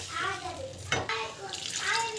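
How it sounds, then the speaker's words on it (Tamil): Tamarind water poured into a cooking pan of one-pot bisibele bath rice, a steady wet splashing and sizzling swish with a brief louder surge, while someone talks over it. "புளி தண்ணி வந்து கரைச்சி வச்சுருக்கோம் இல்லையா, ஸோ அதை வந்து ஆட் பண்ணிக்கலாம்."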